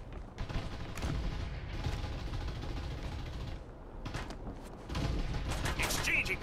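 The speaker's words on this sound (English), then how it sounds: "Exchanging fire!" Video game gunfire in Farlight 84 team deathmatch: sustained rapid shooting and explosive bursts, dense and loud, with a brief lull before the firing resumes.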